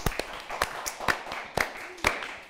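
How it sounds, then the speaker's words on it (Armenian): An audience applauds on a talk show with only a few scattered, fairly quiet hand claps. The claps land in an uneven rhythm about every half second and are not sustained or thick. "Եկեք ծափարենք։"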